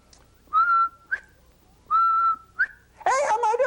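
Person imitating a quail's whistle, two clear, steady, medium-length whistled notes each ending in a short rising chirp, followed by a voice speaking.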